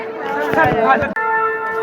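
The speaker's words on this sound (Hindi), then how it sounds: "लगातार यहाँ पर शंखनाद हो रहा है हमारे वंदे भारत एक्सप्रेस के लिए" Conch shells are blown on a station platform to greet the inaugural run of the Howrah–New Jalpaiguri Vande Bharat Express. A sustained, droning tone holds throughout, partly under loud nearby voices.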